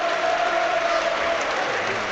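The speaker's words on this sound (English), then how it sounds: "He deserves this round of applause from the home fans." Steady applause from a large home crowd at a football match, a continuous dense wash of clapping at even volume throughout.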